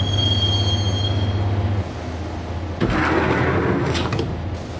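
Train wheels squeal loudly as a train rolls along the rails, a sound effect in an audio drama; the steady metallic grind and rumble carries throughout, with a brighter screeching burst near the end.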